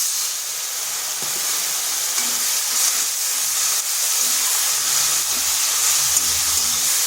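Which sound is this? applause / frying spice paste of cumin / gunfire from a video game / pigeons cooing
frying spice paste of cumin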